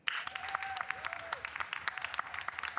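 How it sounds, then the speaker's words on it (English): Scattered clapping from an audience at a climate tech prize final greets the finalists, fairly faint and uneven with distinct individual claps, and a faint tone drifts through the room. "let's please give them an extra round of applause"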